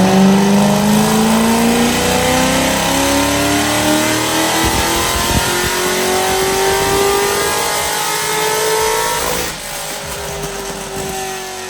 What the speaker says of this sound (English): Let's do another power pull.